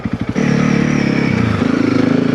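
A Honda CRF300L with Stage 1.5 modifications rolls on in third gear: a few thumping engine pulses give way to a loud, close, steadily rising drone.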